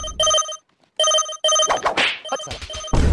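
A telephone rings in bright electronic bursts, two rings separated by a short silence, then a further ring cut by clattering knocks and a sharp thump.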